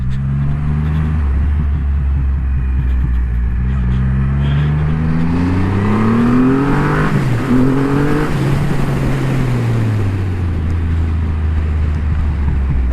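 Triumph Rocket III GT, a 2500cc motorcycle, accelerating hard in second gear, its deep engine note rising in pitch, briefly dipping at a shift, then climbing again, loud and close with wind rush.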